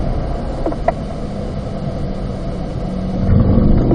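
A car on a race track at a performance driving school, a continuous loud engine rumble heard from inside, easing during braking and then building again as it accelerates.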